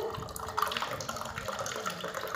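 Water is poured into a glass for a lemon drink in a village kitchen, a soft, continuous trickle and splash at low level amid faint background noise.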